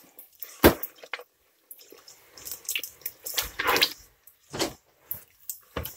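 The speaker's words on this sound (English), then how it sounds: "I'm going to stir this up." Emulsified coco mango sugar scrub being stirred by hand, giving a series of short wet squishes and clicks of the thick scrub against its container, close and fairly quiet with gaps between strokes.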